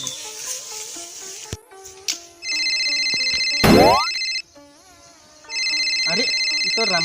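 A mobile phone plays an electronic melodic ringtone in two sustained bursts, with a rising sweep between them and faint background sounds.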